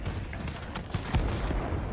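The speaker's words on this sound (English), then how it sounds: "Now, just listen to these guns. I mean, those 20mm cannons are just fantastic." Rapid bursts of 20mm aircraft cannon fire in the video game World of Warplanes, from a German Messerschmitt Me P.1092 fighter, with sharp booming reports, loud and close, repeating irregularly over a rumbling background.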